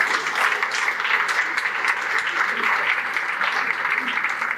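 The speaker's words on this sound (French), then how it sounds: "Vous pouvez me rejoindre sous vos applaudissements." An audience at an association gathering applauds as speakers come up to the stage, a sustained dense clapping from many hands, steady and moderately loud, with faint voices underneath.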